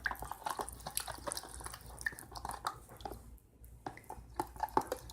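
Spoon stirring brown gravy mix into a cup of water in a microwave-safe dish, giving close, soft liquid sloshes and wet clinks in an irregular rhythm with no talking.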